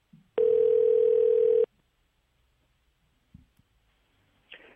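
An outgoing telephone call plays a single long, steady ring tone for about a second, then the line falls nearly silent apart from a few faint clicks.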